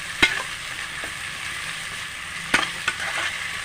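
Ginger garlic paste fries in a pan with a steady, close hiss of sizzling oil, broken by a few sharp clicks of a utensil against the pan.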